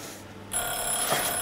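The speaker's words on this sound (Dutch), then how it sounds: "Dat is mijn wekker." An alarm clock rings during a home baking contest, a steady electronic bell-like tone that starts abruptly partway through and continues at fairly constant loudness.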